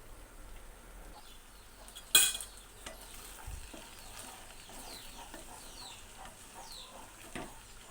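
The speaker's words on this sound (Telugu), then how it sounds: "ఈ మసాలా అంతా వంకాయకి పట్టేలా వేగించుకోవాలి." Stuffed brinjals coated in masala fry in a pan with a soft, steady sizzle, broken by a sharp scrape of a spoon stirring and a few quieter clinks and knocks.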